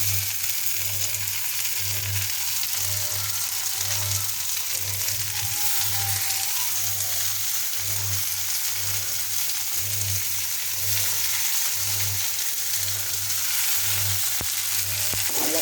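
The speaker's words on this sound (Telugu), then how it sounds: "ఇప్పుడు నేను కట్ చేసి పెట్టుకున్న టమాటా వేస్తున్నాను" Chopped tomatoes, three of them, sizzle steadily in a hot pan for a tomato curry, a continuous close frying hiss with a low rhythmic hum pulsing underneath throughout, no voices.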